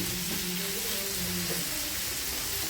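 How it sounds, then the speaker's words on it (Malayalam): Onions sizzling steadily in hot oil in a pan for a mushroom fry, a close, dense and constant crackle with light stirring. "നന്നായിട്ടൊന്ന് എണ്ണയ്ക്കകത്തൊന്നും കൂടെ ഒന്ന് ഫ്രൈ ആകട്ടെ."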